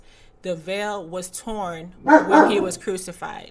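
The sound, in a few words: dog barking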